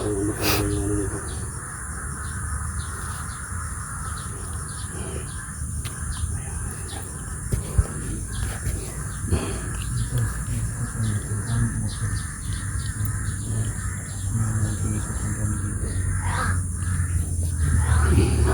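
Distant crows caw on and off over a steady outdoor hum and rustling, the calls faint and scattered across a long stretch.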